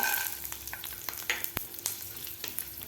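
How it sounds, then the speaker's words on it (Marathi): Peanuts frying in oil with cumin, green chilli and garlic for a raw mango thecha, a steady crackling sizzle broken by occasional sharp pops and light stirring scrapes, close and moderately loud. "तेलामध्ये ते शेंगदाणे व्यवस्थित खरपूस होईपर्यंत आपल्याला शेंगदाणे भाजायचे आहेत"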